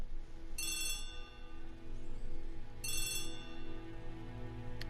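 Telephone ringing in an Agatha Christie ABC Murders video game, two bursts of a bright electronic bell about two seconds apart over a low steady background hum.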